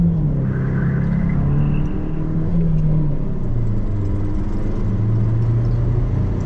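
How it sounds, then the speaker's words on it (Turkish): A Rover 220 Turbo Tomcat accelerating hard, its engine drone rising and holding steady as a close, continuous in-cabin rumble with no talk over it. "Direkt sağ tarafa attı araba, yani hızlanırken ciddi şekilde."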